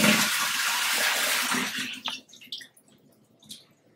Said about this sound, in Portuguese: Vou escorrer agora essa água.